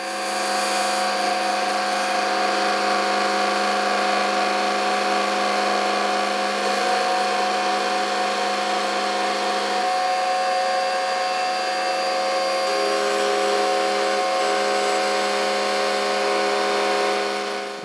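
A high-speed router whines steadily while cutting a binding channel along the edge of a guitar body, giving a loud, continuous tonal buzz that barely changes as the tool moves through the wood.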